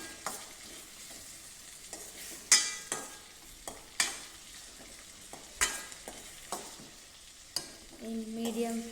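Potato tomato curry fries in a pan over medium flame, with a steady quiet sizzle broken by regular sharp scrapes and knocks of a spoon stirring, close up.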